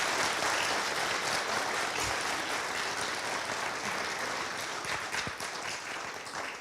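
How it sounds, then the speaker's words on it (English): An audience at a motivational speaking event claps together in a sustained, dense round of applause that stays fairly even and slowly thins toward the end. "Give yourselves a round of applause."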